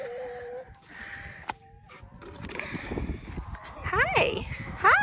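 Backyard chickens cluck and squawk close by in short bursts, their calls rising toward the end, as a person talks softly to them.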